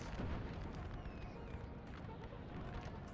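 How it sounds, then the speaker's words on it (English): Artillery volleys boom across a Napoleonic Total War 3 multiplayer battlefield, a dense continuous rumble of distant cannon fire and crackle under a steady wash of battle noise, with no clear single shot standing out. "They have artillery still volleying here."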